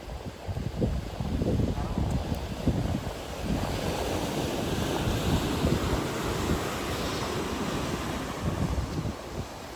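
Ocean waves at Devghadi Beach surge and wash in a continuous rough roar, with wind buffeting the microphone and people talking nearby.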